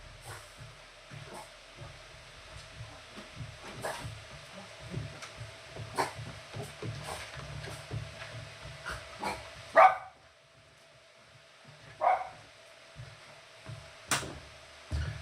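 A dog yaps and barks in short bursts under a steady indoor hum, with a sharp louder yelp near the middle followed by quieter whines and a few more barks.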